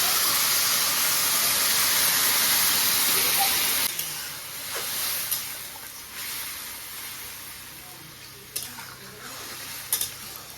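Water boiling in a cooking pot on a home stove, a steady hissy bubbling roar that drops in level partway through, with a few faint clinks and knocks near the end and no voices.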